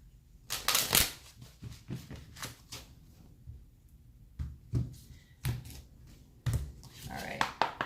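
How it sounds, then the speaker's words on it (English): Several quick riffling bursts of oracle cards being shuffled, close by, with soft handling taps between them and a brief murmur near the end. "All right, let's do one more shuffle."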